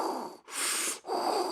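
Loud, close breathing through a hand-sewn cloth mask, with three harsh, rasping breaths in quick succession separated by short pauses.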